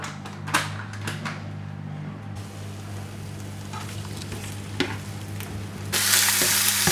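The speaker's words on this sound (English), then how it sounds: "So I'm going to start with frying sausages." Sausages frying in a pan, giving a continuous close sizzle with a few sharp crackles and pops and a louder burst of spitting near the end.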